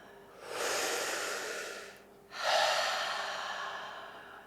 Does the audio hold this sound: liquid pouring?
no